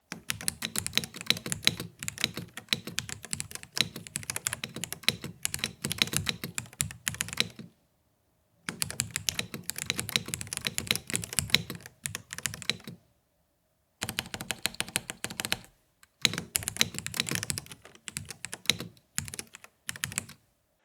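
Rapid, clacky typing on a Dareu A98 Pro mechanical keyboard with linear Sky v3 switches in several bursts with brief pauses, close and crisp, no speech.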